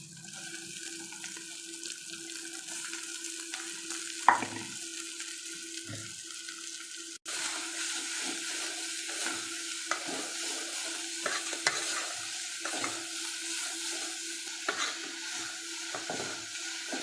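Sliced onions fry in hot oil in a pan for a prawn curry, giving a steady close sizzle. Occasional clinks and stirring scrapes come through, and a sudden jump in the frying noise follows partway through, with no voices.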